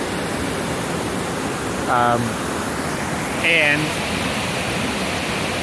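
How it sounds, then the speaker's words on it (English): A river runs over small waterfalls along the Guayabamba river, a steady, dense rushing wash that fills the whole scene, briefly overlaid twice by a short spoken voice. "You can look down and see how the river leads out to a larger river, the Guayabamba, and the little waterfalls along the way."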